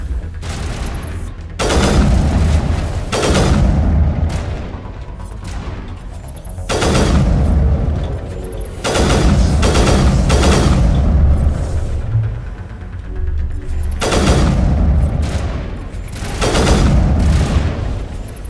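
Battle gunfire in the video game Mass Effect, loud rapid bursts and booming shots arriving in clustered volleys with brief pauses between, close and dense throughout.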